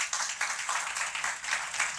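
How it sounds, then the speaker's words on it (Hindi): Audience applause with dense, steady clapping at a moderate distance, welcoming a brave girl at an event for an old-age home. It lasts about two seconds without any pause. "आपके लिए 3 तालियां।"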